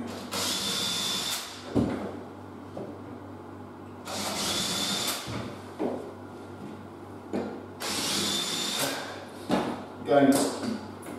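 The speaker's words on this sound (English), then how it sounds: "I'm just going to put the bottom pilot hole in each hinge position" Three short bursts of a power drill whirring in close succession as pilot holes are drilled for door hinges, separated by quiet handling noises and faint knocks, with no talk.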